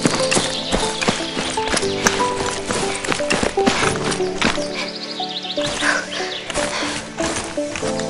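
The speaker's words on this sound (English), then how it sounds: "Arma footstep is the most important of the sound elements of Fallout 4" Character footsteps from the Arma footstep sound mod in Fallout 4, a quick run of crunchy, irregular steps close by, mixed with game background sounds and no talk.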